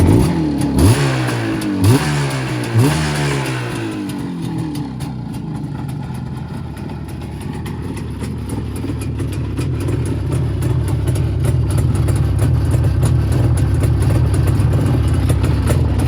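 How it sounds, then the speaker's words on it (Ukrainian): A cold car engine idles at low revs, starting with a few uneven revving surges before settling into a steady, close, continuous low rumble with no talk. "Зараз геть холодний, чуєте, які низькі обороти"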